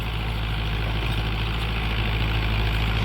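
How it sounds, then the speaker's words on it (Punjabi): Farm tractor on a field being readied for rice, its engine, which sometimes puffs smoke, idling close by with a steady, low, even rumble that never changes. "ਧੂੰਆਂ ਮਾਰਦਾ ਹੈ ਟਰੈਕਟਰ"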